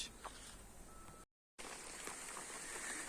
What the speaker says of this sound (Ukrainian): Почали красити, пішов дощ.